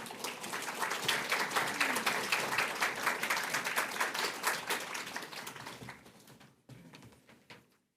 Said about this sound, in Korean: 우리 선교사님 격려한 의미로 박수로 맞이하겠습니다